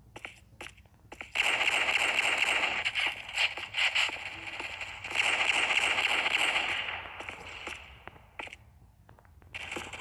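Gunfire in the Pixel Strike 3D shooter game, bursts of rapid crackling shots that come and go in long stretches, fairly loud and dense, with quiet gaps between volleys.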